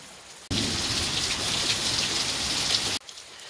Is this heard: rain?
yes